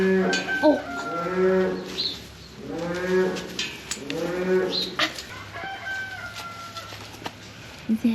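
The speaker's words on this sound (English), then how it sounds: "Is that a cow?" A cow moos in several long, drawn-out lows one after another, fairly close. Fainter animal and bird sounds mix in behind.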